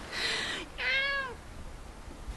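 Domestic cat meowing twice at close range, a short first call followed by a longer drawn-out meow, with quiet room tone and no talk.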